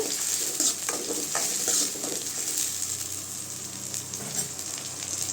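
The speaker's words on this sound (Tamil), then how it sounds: "நல்லா பச்சை வாசனை போகிற அளவுக்கு வதக்கி விட்டுக்கோங்க தக்காளியை" Chopped tomato and onion sautéing in oil for an okra tamarind curry, a steady close sizzle and crackle with occasional spatula stirs, continuous and moderately loud.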